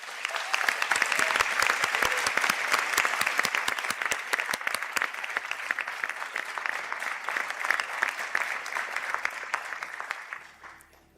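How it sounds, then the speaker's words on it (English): Sustained applause from a big audience at a Sligo and St Angelas conferring ceremony, dense and even for several seconds, tapering away at the end. "to stand up for a round of applause"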